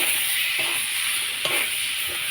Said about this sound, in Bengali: এখন আমি লঙ্কা গুঁড়োগুলো ভালো করে ভেজে নেব